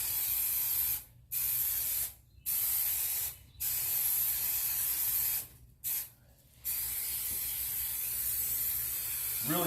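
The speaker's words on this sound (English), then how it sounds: "Apply our adhesive." Adhesive sprays from a can onto an insulation panel during an installation, a steady, loud hiss close by that is broken by several short gaps between bursts.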